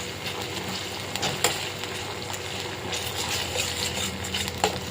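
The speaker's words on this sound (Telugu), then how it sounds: "అడుగంటకుండా తిప్పుకుంటా" Ginger paste frying in a pan is stirred, giving a soft continuous sizzle with occasional light scrapes and clinks of a utensil against the pan, close and fairly quiet.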